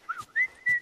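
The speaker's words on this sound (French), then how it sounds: "Ça y est, elle arrive à siffler." In The Last of Us, Ellie whistles a brief rising tune that settles into a steady held pitch, close and clear with soft game sounds around it.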